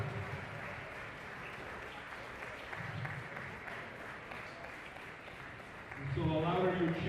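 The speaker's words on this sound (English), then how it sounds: "Let's give them a round of applause." Audience applause at a collegiate national table tennis team final, a steady wash of clapping from a hall crowd with a voice speaking over it, swelling louder near the end.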